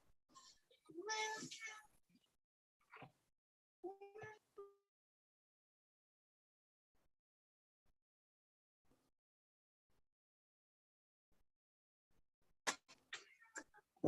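A pet cat meows loudly near the start in a burst of calls, with a few more cries following, then long near-silence before a sharper run of sounds near the end.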